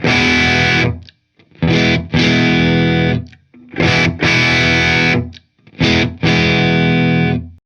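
A Fender Rarities Flame Maple Top HSS Thinline Stratocaster is played through heavy distortion, switching from the bridge humbucker to the neck single-coil. Sustained chords ring loudly in several blocks, each stopping sharply before the next.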